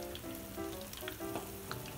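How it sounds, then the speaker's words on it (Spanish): Shrimp fry in hot oil, a dense, steady sizzle with light crackles and spits, heard close and fairly quiet with no talking. "Ahora los freímos camarones"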